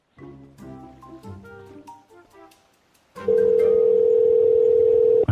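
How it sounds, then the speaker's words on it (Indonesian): A steady phone dial tone from a call placed in the video game GTA V rings loud and unbroken for about two seconds, following a stretch of game music. "Gua telepon dulu dah."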